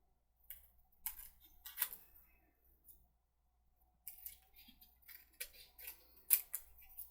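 Scissors trim a paper insert for a winter garden papercraft project, giving close, faint snipping and rustling in two clusters separated by a quiet pause.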